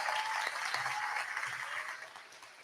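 Crowd at an outdoor anti-abortion rally applauding Sharon, a sustained wash of many hands clapping that starts strong and gradually thins and fades toward the end.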